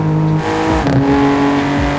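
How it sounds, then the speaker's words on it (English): A BMW M3 F80 engine revs hard near its redline, a loud, sustained, steady roar heard from inside the car while driving through traffic. "Redlining the shit out of this car."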